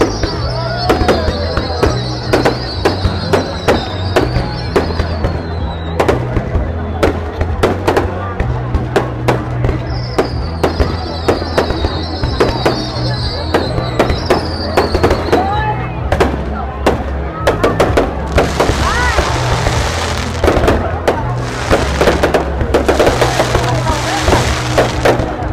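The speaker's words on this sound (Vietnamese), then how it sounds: "Bắn này nhiều thật, công nhận. Chưa thấy đâu bắn nó dài như thế này." Fireworks at the Lim festival in 2024 crackle and bang in dense rapid volleys, with whistling rockets rising and sharp pops nearly nonstop, loud and close, while people chatter nearby.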